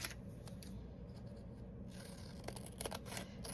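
Scissors snipping through paper scraps cut from old book pages, a soft, low-level series of close snips and rustles over a steady background hum, with no voices.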